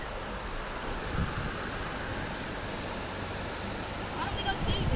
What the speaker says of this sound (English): The creek is every bit out into the road right here.